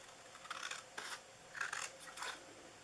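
Scissors cutting straight across a paper Christmas sentiment strip, several short faint snips and rasps spaced through a quiet close-up moment.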